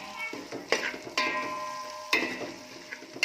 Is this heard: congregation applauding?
no